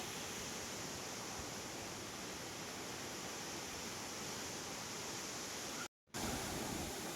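A local waterfall roars as a steady, dense rush of falling and splashing water, loud and continuous with a brief dropout near the end.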